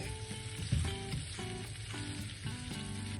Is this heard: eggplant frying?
yes